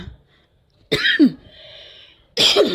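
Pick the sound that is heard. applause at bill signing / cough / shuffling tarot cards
cough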